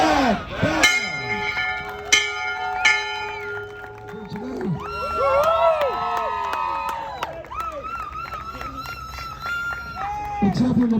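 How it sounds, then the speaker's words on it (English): A graduating student's celebration bell rings out in repeated clanging strikes with ringing overtones, mixed with loud crowd cheering and shouting voices through much of the stretch. "Ana, ring that bell."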